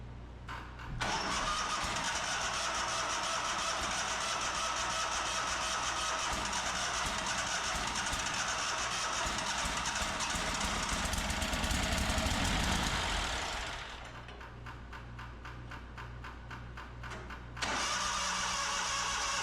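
A zero-turn mower engine cranks and catches, then runs steadily and loudly up close before dropping to a lower, rougher idle and surging again near the end.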